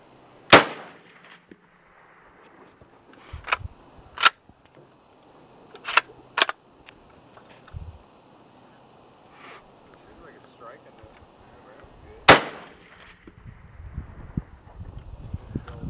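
Custom Mosin Nagant rifle fired outdoors, several sharp loud cracks spaced a few seconds apart with quieter clicks between, over light wind, with people talking.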